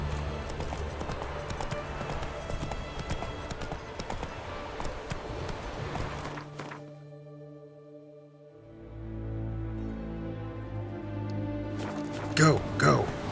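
Roach, the horse in The Witcher 3, gallops with steady hoofbeats under game music, dropping away briefly midway before the rhythmic clopping and score return.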